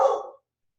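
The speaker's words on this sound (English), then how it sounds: "That's the dog barking, sorry." A dog gives one short, close bark, a brief burst that cuts off quickly and leaves silence, inside a home during a conversation.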